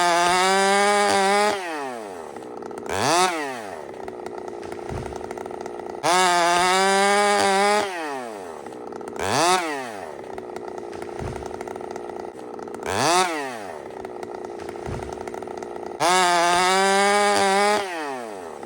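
A chainsaw bites through a big tree trunk during felling, close and loud, its engine surging to a high whine in repeated cuts and dropping back to a rough idle between each of several bursts.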